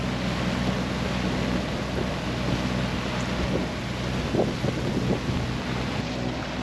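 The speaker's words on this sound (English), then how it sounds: "the squall's going by while we're still here next to land" A squall's wind buffets a sailboat near Antigua, a constant loud rushing roar with low rumble and faint water wash beneath, with no voices.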